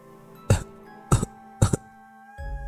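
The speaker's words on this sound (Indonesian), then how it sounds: "terdengar suara orang terbatuk-batuk" Three sharp, separate coughs at a steady pace from one person nearby, followed by a low murmur.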